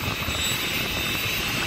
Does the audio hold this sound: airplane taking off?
yes